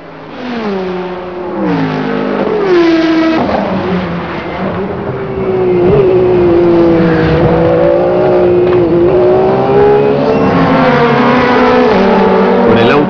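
Porsche 911 GT1 factory race cars at Le Mans roar loudly, with engine pitch sweeping up and down through repeated gear changes and revving passes. A faint voice sits under the engines.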